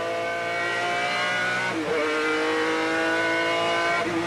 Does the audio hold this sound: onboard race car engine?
yes